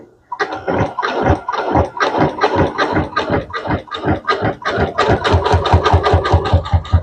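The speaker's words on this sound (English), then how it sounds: "I'm just going to go ahead and start" A sewing machine runs a serpentine stitch along a jelly roll rug, its needle thumping in a rapid, steady mechanical rhythm that grows faster and denser as stitching continues, loud and close.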